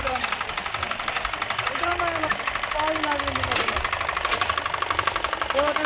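A mini tractor engine chugs at a steady, close knocking rhythm on a farm field, running continuously while someone talks over it.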